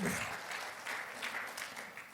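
Congregation applauding during a Sunday church worship service, a soft, distant patter of many hands clapping that holds steady throughout.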